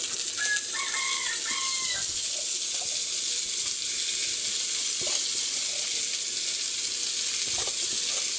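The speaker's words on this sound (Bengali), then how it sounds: "লাল শাকটা ভাজি করে নেব" Red amaranth greens fry in oil in a pan, a loud, constant close sizzle with a few scattered stirring clicks and no talking.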